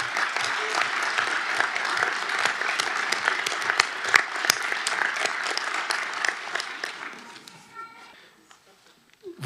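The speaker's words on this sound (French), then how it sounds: "Vous pouvez, je crois, les applaudir" A room applauds newly installed city council delegates at a municipal council session in Bry-sur-Marne, steady clapping from many hands that thins out and fades near the end.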